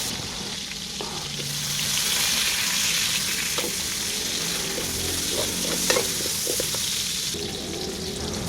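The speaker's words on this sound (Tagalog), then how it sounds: "Bawasan lang natin ang mantika mga boss at magisa na tayo ng bawang at sibuyas." Garlic and onion sautéing in a small amount of oil at home, a steady close sizzle with scraping stir strokes and occasional clicks of the utensil against the pan, continuous throughout with no talking.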